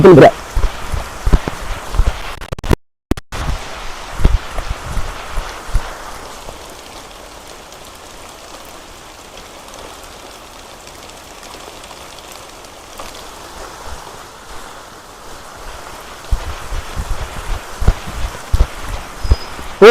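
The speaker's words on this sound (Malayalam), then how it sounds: "ഭയങ്കര മഴ" Steady rain patters and hisses throughout, with heavier close drops and some movement at the start and end.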